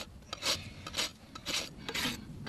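A rasp files a horse's hoof during a natural trim before glue-on boots are fitted, giving about five rhythmic rough scraping strokes, close and fairly quiet, with no talk.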